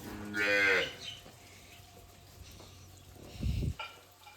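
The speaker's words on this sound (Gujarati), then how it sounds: "આ છે દેશી ગાય" A desi cow on a farm with buffaloes lets out one clear, fairly close moo, followed a few seconds later by a short low grunt, with quiet surroundings in between.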